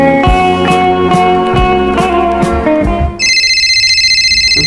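A cellphone rings loudly and repeatedly in a domestic comedy scene, a bright electronic ringtone that carries over a musical background before standing nearly alone at the end.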